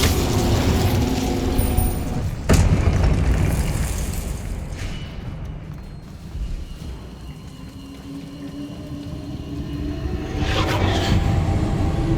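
A fire spell, Incendio, cast in the video game Hogwarts Legacy: a sharp burst followed by roaring, crackling flame noise that swells and fades, with a second flaring burst near the end.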